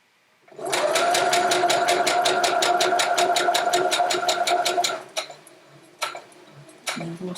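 A sewing machine stitching a quilt with its speed limiter set, running in a steady rapid mechanical rhythm for about four seconds, then stopping, followed by a few isolated clicks and knocks.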